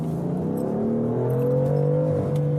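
BMW M car accelerating hard, its engine note climbing steadily in pitch as it pulls through a gear, loud and continuous with a smooth, rising drone.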